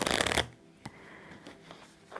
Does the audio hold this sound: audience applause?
no